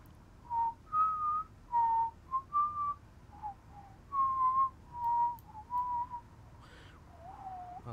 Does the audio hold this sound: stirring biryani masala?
no